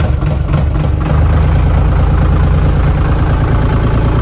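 A loud tractor engine idles close by with a deep, steady rumble and a chugging low pulse throughout.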